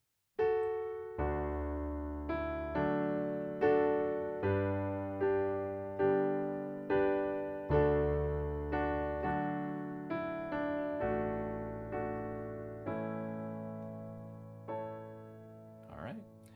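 Piano chords in open, hollow-sounding voicings, struck one after another in a steady rhythm and left to ring, with no talking.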